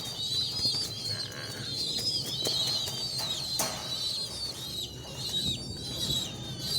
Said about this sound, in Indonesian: saya punya merpati, anakan merpati